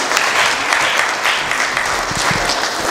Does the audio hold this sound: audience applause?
yes